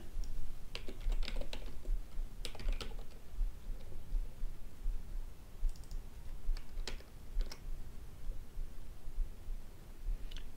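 Steady typing on a computer keyboard, close and continuous for about ten seconds, with bursts of rapid key clicks and a few louder strokes, no talking.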